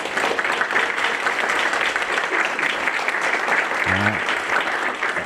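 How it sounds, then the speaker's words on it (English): A university audience applauding a winning team at an event, a full, even round of clapping held at steady loudness throughout, with a brief low voice murmur near the end. "So can I get a round of applause?"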